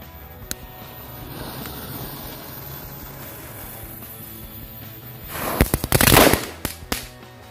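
Firecrackers set off for Lebaran crackle in a loud, rapid volley of sharp pops near the end, after a stretch of fizzing fuse, one isolated early bang and background noise.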